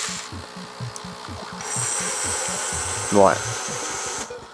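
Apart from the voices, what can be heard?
NES R.O.B. robot gyro spinning up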